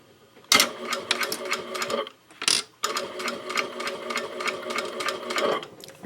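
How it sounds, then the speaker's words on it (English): A sewing machine top stitches a mini box pouch in quick rapid bursts of needle clatter. One short run is followed by a pause and a brief tap, then a longer continuous stretch of stitching, close and steady, with no talk. "I'm starting that top stitching."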